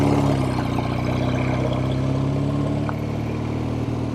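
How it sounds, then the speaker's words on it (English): A 1970 Triumph TR6R motorcycle engine idles steadily while warming up, a close, continuous mid-pitched rumble with a constant even throb and no revving or talk. "I'll let the bike warm up a little bit."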